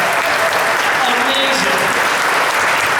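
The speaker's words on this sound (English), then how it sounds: "Give him a round of applause, please." A room full of people clapping steadily, a dense, loud wash of applause with faint voices mixed in.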